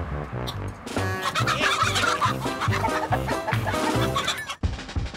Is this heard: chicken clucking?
yes